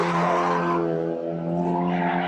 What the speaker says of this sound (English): These 2 cars have been hustling all throughout this race.